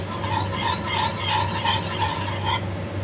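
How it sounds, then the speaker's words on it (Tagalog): A spoon scrapes around a pan of custard mixture in continuous stirring, giving rhythmic rasping strokes about twice a second over a low steady hum, close and moderately loud, ending abruptly near the close. "Continuous stirring lang guys para hindi masunog yung ilalim ng ating nahalong custard."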